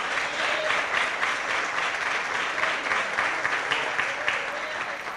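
A church congregation at a Sunday service applauds in a continuous, moderately loud wash of clapping that carries on for several seconds, with a faint voice sounding through it.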